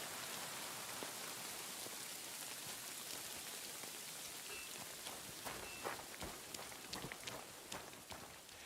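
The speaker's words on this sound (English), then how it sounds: "It's pissing down rain." Heavy rain pours steadily on surfaces nearby, a dense hiss with scattered sharper drops and splashes growing more distinct toward the end; no voices.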